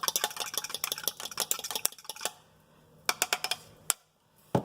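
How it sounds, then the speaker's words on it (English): Egg whisked in a bowl with a fork or utensil gives rapid, close clicking taps in quick bursts, pausing briefly before a few more strokes resume. "I always like to go ahead and just mix up my egg before I actually put in the pan"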